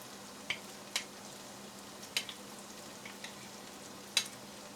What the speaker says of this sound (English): Then add the chopped garlic into the pot.